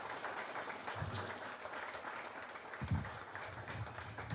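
An audience of residents in Santa Aratack, Guyana applauds a presidential visit, a dense steady patter of clapping at moderate distance with a few louder thumps.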